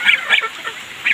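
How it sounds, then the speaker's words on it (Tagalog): Geese honking while being fed, three or four loud nasal honks in quick succession, close by. "Para ma-experience mo yung magpakain ng mga gansa."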